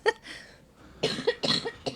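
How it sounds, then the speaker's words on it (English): A person coughs several times in short, harsh bursts, close to the microphone, with a pause between an early cough and a later cluster of three or four coughs. "Sorry, I have a cough."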